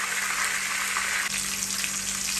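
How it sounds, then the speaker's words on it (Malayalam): Pre-cooked chicken frying in a pan, a loud dense sizzle crackling steadily, close up, with a brief scrape as the pieces are turned. "ഇപ്പം നമ്മൾ ചിക്കന് തിരിച്ചു മറിച്ച് രണ്ട് ചട്ടകം വെച്ചിട്ട് മെല്ലെ തിരിച്ചിട്ടും ഇട്ട് കൊടുത്തിട്ട് ഫ്രൈ ചെയ്തെടുക്കാം"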